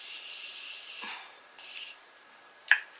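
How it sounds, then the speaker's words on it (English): A few short hissing sprays from a Morphe makeup setting spray bottle, close by, separated by pauses and ending with a sharp click. "I'm actually gonna spray my Morphe spray because it is really hot out today"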